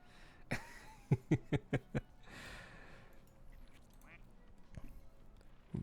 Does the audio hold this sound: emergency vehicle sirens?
no